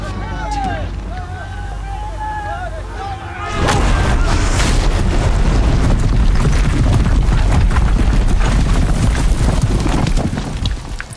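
Heavy artillery guns fire in Horizon Zero Dawn, a sudden loud roaring barrage that kicks in partway through and rumbles on densely. Voices call out over the battle beforehand.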